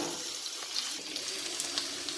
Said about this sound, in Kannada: ಈರುಳ್ಳಿ ಸ್ವಲ್ಪ ಟ್ರಾನ್ಸ್ಪರೆಂಟ್ ಕಲರ್ ಬರಬೇಕು, ಅಲ್ಲಿ ತನಕ ಫ್ರೈ ಮಾಡ್ಕೊಳ್ಳೋಣ.